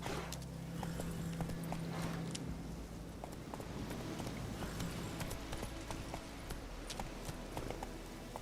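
Galloping horse hooves pound rapidly in The Witcher 3, a dense, fast clip-clop running continuously over a low rumbling game soundscape, moderately loud throughout.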